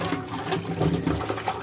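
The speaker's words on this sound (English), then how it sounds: "We have done peeling our yam, so let us wash it." Water splashes and sloshes around a peeled yam as it is rinsed by hand in a basin, making a short, busy, close burst of liquid sound with no speech.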